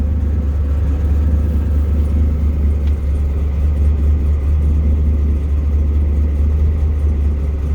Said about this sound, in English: it rattles like crazy. So you can hear it here. Listen to my shitty exhaust.